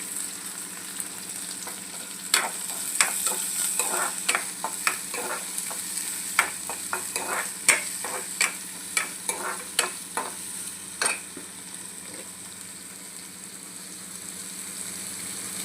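Chopped onion fries in a pan for kanda poha, with a steady bed of sizzle and repeated scraping stirs at a close, moderate level and no talk.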